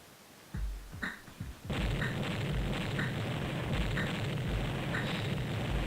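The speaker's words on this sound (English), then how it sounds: "Wow, that's a lot of explosions." Explosions in Ace Combat 2 on an enemy carrier, a few quick bursts followed by a continuous roaring rumble of blasts layered with repeated pops, loud and steady, with no talk.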